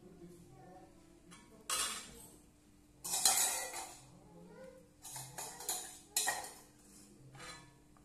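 Utensils clink against metal and glass while homemade ghee made from cream is strained in a home kitchen, a series of short sharp clinks and scrapes in irregular bursts, fairly close, over a faint steady hum.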